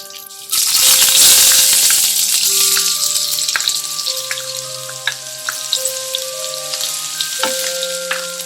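Jeera and garlic flakes hit hot cooking oil with a sudden loud sizzle that settles into steady frying crackle with occasional pops and a faint background hum.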